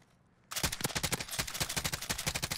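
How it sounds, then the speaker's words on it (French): Rapid automatic gunfire in the video game Warzone, a sudden steady burst of evenly spaced loud shots rattling for two seconds after a brief quiet moment. "Il tire dessus ce bloc."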